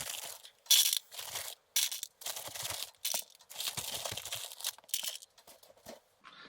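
Wood pellets scooped up with a cut-open Coke can aboard a sailboat, a series of close, dry crunching and rattling scrapes in short bursts separated by quiet gaps.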